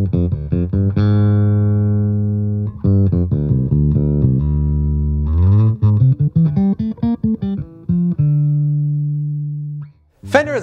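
A Fender American Elite Precision Bass plays a slow run of sustained, ringing low notes, loud and alone, ending in a short burst of noise.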